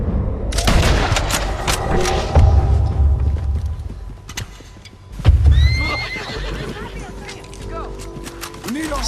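Horse neighing and clip-clopping hooves in the Red Dead Redemption 2 video game, with whinnies rising over a steady galloping rhythm, gunfire bursts and game noise in the background.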